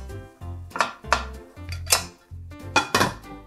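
A metal steamer rack is set into a pot of water for steaming eggplant, producing a run of sharp clanks and scrapes of metal on metal in an uneven rhythm, loud and close in a quiet kitchen.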